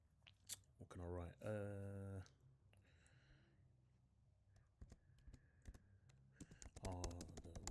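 Close, quiet computer keyboard typing in scattered bursts of clicks, interrupted by faint speech.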